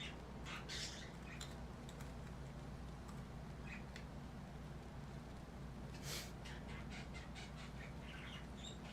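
The cry of a shiny Chatot, a parrot Pokémon in Pokemon Legends Arceus: short chirpy squawks in two quick bursts, one near the start and one later, over a steady game background.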